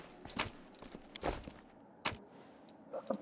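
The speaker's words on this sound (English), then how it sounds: "I can hear your footsteps." Footsteps in the video game Pathfinder: Wrath of the Righteous: a few scattered, moderately loud steps with irregular spacing over a faint ambient background, with no talking.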